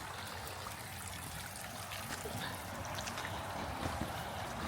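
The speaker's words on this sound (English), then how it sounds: "We're close to the ocean. You can hear the sound of waves." Ocean waves beside a muddy, rocky coastal path on the South West Coast Path between Coverack and Helford, heard as a steady, broad wash of surf noise that swells slightly and runs unbroken throughout, with no talking.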